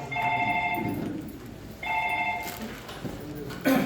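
A telephone rings in two electronic bursts with a pause between, fairly close, followed by a brief clatter.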